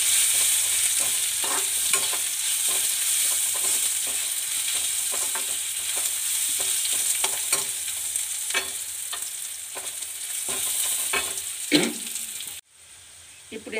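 Raw mango pieces for a tangy-sweet Bihari pickle fry in hot oil in a pan with a steady loud sizzle, while a utensil scrapes and stirs in frequent irregular knocks, ending with a sudden drop to near silence.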